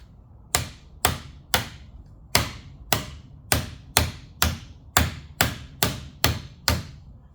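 A hammer strikes a nylon piece fitted on a Bravura trumpet about a dozen times in an even, steady rhythm, each blow a sharp, loud, close knock with a brief ringing decay.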